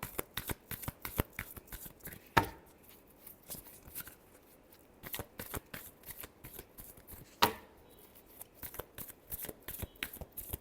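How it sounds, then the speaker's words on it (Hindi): Tarot cards being shuffled by hand, a rapid run of soft riffling flicks and taps with two sharper snaps, close and alone without talk. "Last shuffle."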